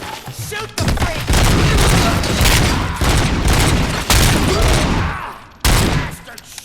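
Loud, dense gunfire in the video game RoboCop: Rogue City arrives as sustained bursts of rapid shots, broken by short pauses.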